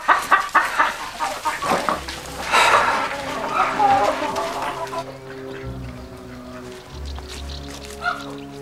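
Hens clucking in a farmyard at feeding time, busy overlapping cackles and clucks close by, mixed with background music and voices talking nearby.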